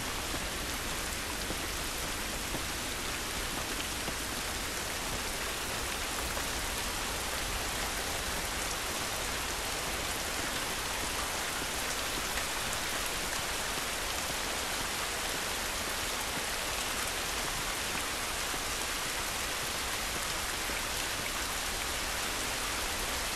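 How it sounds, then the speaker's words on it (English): Steady rain pours outdoors in The Last of Us, a dense, even hiss of drops on surfaces filling the whole stretch without letup, no voices over it. "This rain ain't gonna do us any good."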